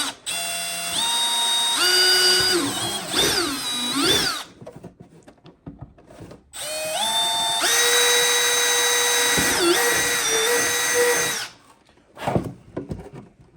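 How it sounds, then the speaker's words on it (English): A power drill fitted with a 1/4-inch bit bores holes for stainless bolts while rigging a trolling motor onto a kayak, two long loud whining bursts that rise and fall in pitch with short bursts around them and a silent pause between. "I'm going to finish drilling these holes and we can run our bolts through"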